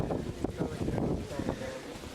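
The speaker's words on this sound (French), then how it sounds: "il commence à y avoir pas mal de vent, pas mal de pluie" Steady wind gusts with rain buffet and rumble close in at Kamakura, Japan, with faint talk underneath.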